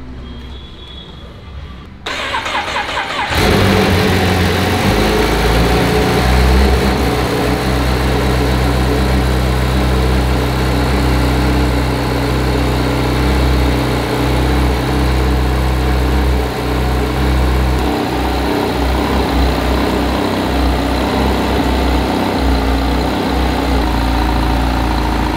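A 214 bhp superbike engine cranks and catches after a short quiet moment, then settles into a loud, steady, close idle that runs on without talk.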